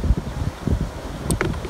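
Strong night wind at a rocky seashore buffets the microphone in low, uneven gusts that rumble and swell for a moment.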